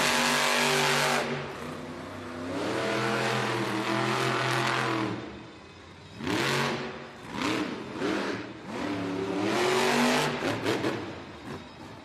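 A monster truck engine roars and revs hard through a timed race pass in a Monster Jam arena in Baltimore, loud and continuous with surging throttle bursts, dips and repeated climbing revs.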